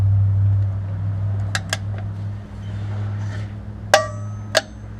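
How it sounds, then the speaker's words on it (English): Torque wrench tightening the oil drain plug on a Porsche Boxster 986/987, with two quick metallic clicks early, then two sharper ringing clacks near the end, over a steady low hum in a quiet garage. "we're just going to properly torque our drain plug"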